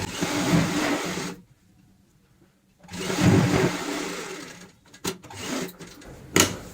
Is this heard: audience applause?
no